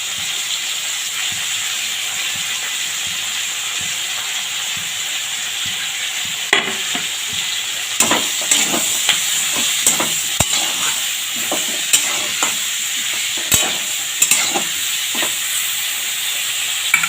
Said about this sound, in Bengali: এবার আমি এই শাক, মিষ্টি কুমড়ো যে শাকের যে ডাঁটাগুলো এগুলো দিয়ে দিচ্ছি।